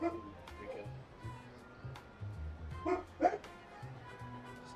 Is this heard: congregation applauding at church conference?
no